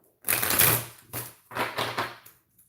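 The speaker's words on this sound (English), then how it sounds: "one more shuffle." A deck of cards is shuffled in three quick riffling bursts, each a crisp, close fluttering rattle separated by short pauses.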